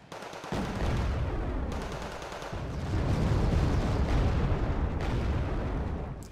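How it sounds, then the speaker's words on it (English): Vickers guns pound a city in the Wargame: Red Dragon strategy game, a dense sustained roar of rapid gunfire and booming impacts that swells and carries on throughout. "I got two Vickers just kind of pounding the city."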